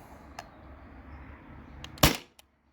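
A single sharp crack from a modified Sabre 68 airgun running on CO2, one loud close shot after a quiet hiss of background noise, followed by a faint tick.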